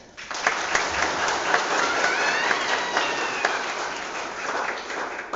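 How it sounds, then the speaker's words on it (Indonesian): A church congregation claps together in a full, even burst of applause that starts suddenly and holds steady for several seconds, dense and close with no talk over it. "kita sambut dengan tepuk tangan bersama-sama"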